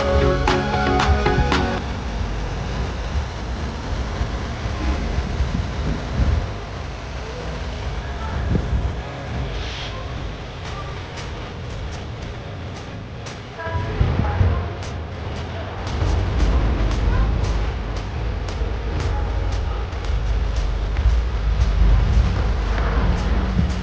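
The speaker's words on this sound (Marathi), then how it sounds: "तर आता ट्रेन निघाली तिथून" Inside the general coach of a Latur-to-Hadapsar passenger train, a continuous rumble rolls along with rattles and rhythmic wheel clacks that swell and ease as the train runs.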